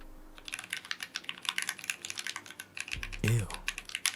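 Typing on a keyboard with scratchy Gateron Cap switches, a fast, dense run of clacking keystrokes, close and clear, ending with a brief louder thump.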